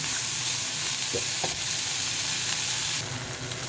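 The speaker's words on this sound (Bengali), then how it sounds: "এখন এটা ভেজে নাড়াচাড়া করে নাড়াবো।" Continuous loud sizzling of tomatoes and leaves frying in a pan for rohu fish mash, with a couple of soft scraping stirs partway through.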